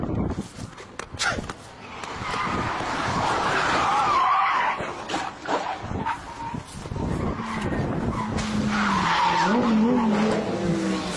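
Cars skidding with squealing tires during a multi-car pileup crash at the Nürburgring race track, loud and continuous across the whole stretch, with rising tire squeal toward the end and some voices mixed in.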